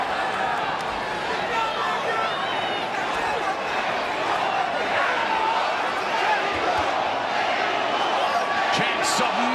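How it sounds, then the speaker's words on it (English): Loud, dense crowd roar fills a Las Vegas boxing arena on Mexican Independence Day weekend as fans chant for Mexico during Canelo vs Berlanga, steady and sustained throughout with overlapping voices and cheers. "Chants of Mexico ringing out"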